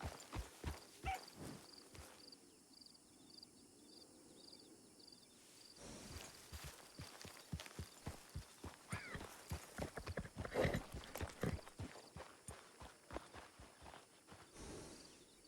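Several horses walk in a RedM video game setting, their hooves clip-clopping in a steady, irregular patter that grows busier and louder, with faint insect chirping in the background.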